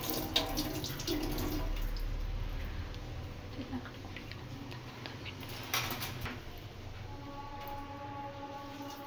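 Water runs steadily from a water purifier tap in a home kitchen, a continuous hiss and splash with slight fluctuations, fairly close.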